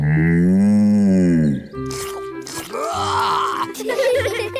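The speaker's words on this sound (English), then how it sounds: "Bessie's a cow." A cartoon cow gives one long, loud, low moo, followed by shorter grunting animal sounds and other noises.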